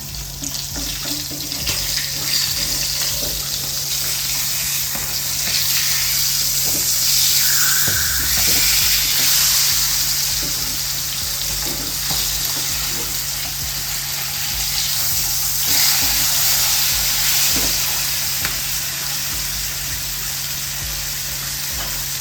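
Fish fries in a pan with a loud, continuous sizzle that swells when it is flipped, with scrapes of a utensil against the pan.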